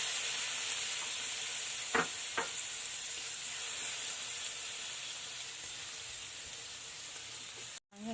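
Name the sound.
stir-frying mushrooms in a pan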